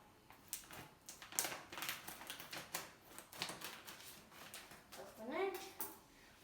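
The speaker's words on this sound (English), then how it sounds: "Let's cut open it with the scissors." Scissors snipping open a millet noodle packet at close range, with crinkly plastic cuts and rustling under a voice talking.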